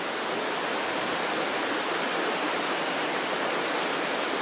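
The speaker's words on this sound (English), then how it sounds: "I got the river right over here." A springtime river flows close by in the woods, giving a steady, loud, broadband rush that holds unchanged throughout with no other sounds on top.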